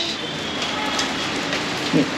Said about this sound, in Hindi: उधर बाहर बहुत तेज़ बारिश आ रही है